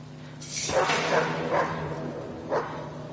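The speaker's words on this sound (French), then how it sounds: "Oui, waf waf, le chien." Barking from a dog in the Hidden Agenda video game, a few sharp yaps spaced across the clip over a steady room tone, with a game voice partly underneath.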